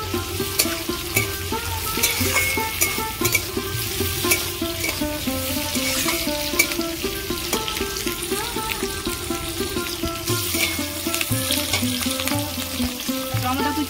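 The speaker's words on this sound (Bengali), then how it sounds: "এবার আমি পেঁয়াজগুলো দিয়ে দেবো।" Onions frying in a pan for a homemade flour-dough breakfast dish give a steady, close sizzle that runs the whole time. It sits under background music, with some stirring and faint water-like noise.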